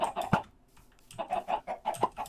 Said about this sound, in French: On les entend, les poulets derrière.